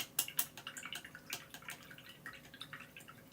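A paintbrush swished and rinsed in a pot of water, with quiet dripping and splashing trickles scattered through a few seconds, close and soft.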